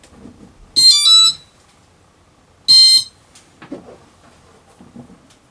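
Quadcopter ESC gives its startup beeps after being plugged in, two loud, high electronic tone bursts about two seconds apart, followed by faint clicks and handling noise.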